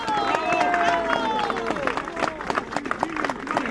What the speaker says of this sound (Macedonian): Силен аплауз за Македонскиот народен театар.